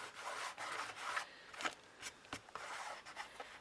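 Excess glue is rubbed off a wooden shadow box by hand, giving quiet, close scratchy strokes that come in short repeated bursts.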